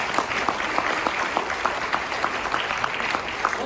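Audience applauding at a doTERRA product launch during an India leadership retreat: steady, dense clapping from a sizable crowd, even in level throughout with no voices standing out.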